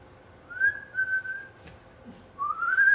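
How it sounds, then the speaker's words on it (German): A man whistles alone in a stage show with a big band, sounding two long, steady tones and then a third rising tone, fairly close and clear over a quiet room. "Ich pfeife."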